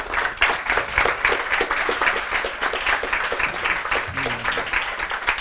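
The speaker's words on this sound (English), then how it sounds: "a warm applause to our two chatterers" Audience applause after a seminar talk during KTH Africa Days, a steady, dense wash of many hands clapping continuously at moderate loudness throughout, with faint murmur underneath.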